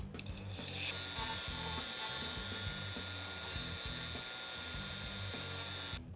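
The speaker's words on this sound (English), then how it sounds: "And this is just a finer grinding stone." A rotary tool fitted with a fine grinding stone works over a custom McFarlane DC Multiverse Knightfall Batman figure, giving a steady, close, continuous high whine with a rattling grind beneath it that runs for about six seconds and then stops.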